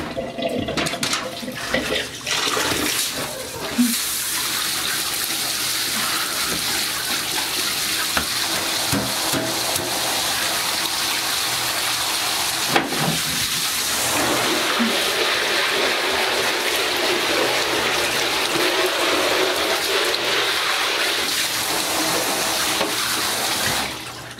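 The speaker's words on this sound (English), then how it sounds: "I'm just going to grab my shower head for a moment" Water from a handheld shower head hisses and sprays steadily and loudly in a small washroom, with a few brief bumps and knocks along the way.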